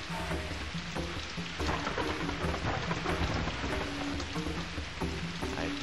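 Thunderstorm rain in the video game Lion, with a dense steady hiss of rainfall and deep rolling thunder rumbles, loud and continuous throughout, no voices.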